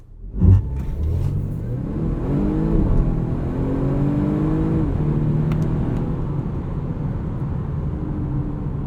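A 2020 Volvo V60 T8 E-AWD Polestar hybrid wagon in performance mode pulls hard from a launch, its engine note rising and falling through gear changes with a steady loud rumbling whir heard from inside the cabin.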